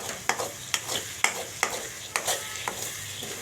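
Raw mango pickle cooks in oil while a spoon stirs it with a regular rhythm of about seven distinct scraping strokes. The strokes are close and fairly loud over a low sizzle.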